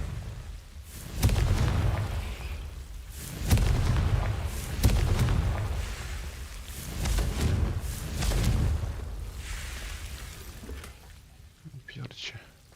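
Spell blasts from Hogwarts Legacy, the Confringo blasting spell, going off as a string of booming explosive bursts with heavy low rumble, several loud hits spaced a second or two apart over ambient game sound.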